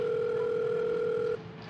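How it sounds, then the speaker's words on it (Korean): A phone rings inside a house as a steady electronic tone, moderately quiet, holding for over a second and then cutting off abruptly. "그런데 집 안에서 벨소리가 계속 울리더라고요."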